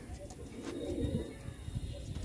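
Pigeons coo softly in low, throaty burbles that repeat through a noisy background, faint and fairly close, with a few higher chirps mixed in.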